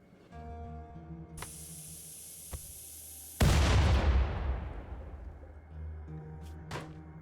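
In the colony game RimWorld, a sudden loud explosion hits after a steady high hiss, then a broad roaring blast that slowly fades, with a low hum underneath and a couple of later small pops.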